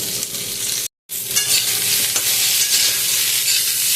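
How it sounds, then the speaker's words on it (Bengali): Vegetables such as ridge gourd, pointed gourd, drumsticks and green banana sizzle loudly in a pan with salt and turmeric for Bengali shukto, a steady bright hiss with stirring and one abrupt brief cut-out. "এবার এই সবজিগুলোকে ভালো করে ভাজতে হবে নুন আর হলুদ দিয়ে"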